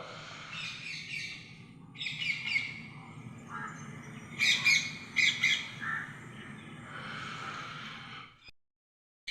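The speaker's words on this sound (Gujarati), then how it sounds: "હવે ચૂડો પોપટનો અવાજ" Rose-ringed parakeet calling at a bird sanctuary in Jamnagar, bursts of shrill screeching notes repeated over several seconds against a low background rumble, stopping abruptly near the end.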